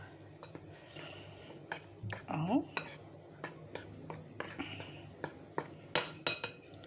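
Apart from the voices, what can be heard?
stirring cake batter in a bowl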